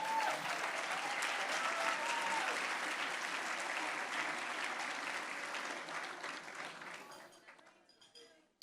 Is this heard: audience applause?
yes